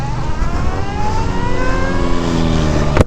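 2023 Energica EsseEsse9+ electric motorcycle moving off: a steady whine climbs gradually in pitch over a layer of broadband noise, ending with a brief sharp click.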